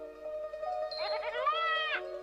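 A lamb in an Alpine setting lets out one clear, wavering bleat lasting about a second, close and fairly loud over a steady background tone.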